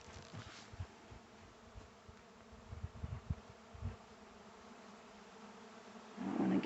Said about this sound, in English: There's a swarm happening right now.